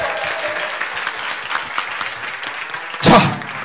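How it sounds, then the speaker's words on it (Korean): An audience at a Korean talk show applauds, its claps thin and scattered at first and then bursting into a short, loud round near the end. "박수 한번 주세요."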